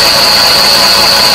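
A Volkswagen Polo 4 car engine running with an abnormal noise, a steady close mechanical drone carrying a constant high-pitched whine throughout, with no talking.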